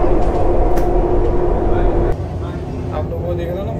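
A Dubai Metro train rushes past close by with a loud rumbling roar that drops off suddenly midway, leaving a lower running hum from the train underfoot.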